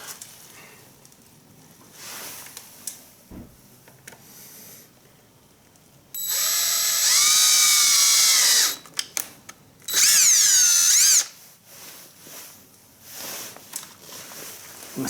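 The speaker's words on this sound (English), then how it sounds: "I'm going to drill a hole right here" A power drill with a 5/32 bit whirs in two loud bursts through a 2022 Honda Grom rear cowl panel, the second shorter and higher pitched, separated by quieter handling clicks.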